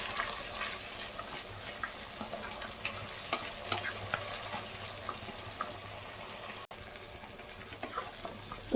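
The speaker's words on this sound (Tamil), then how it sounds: "இஞ்சி பூண்டு நல்லா பச்சை வாசனை போகிற வரைக்கும் வதக்கிக்கோங்க." Ginger garlic paste sizzling and frying in a pan for a pepper chicken fry, with steady crackle and scattered stirring scrapes throughout, no talk.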